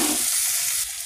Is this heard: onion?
yes